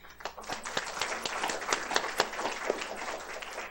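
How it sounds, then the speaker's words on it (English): An audience at a medical grand rounds session applauds its chief resident speakers with a steady round of dense, moderately loud clapping that lasts throughout. "I'd first just like to give one more round of applause for our 6 fantastic Chief Resident speakers."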